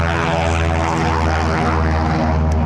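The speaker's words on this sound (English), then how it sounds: "other planes taking off" Propeller aircraft at a D-Day 75th anniversary flight event taking off, a steady loud engine drone with strong harmonic hum filling the whole stretch, no talking over it.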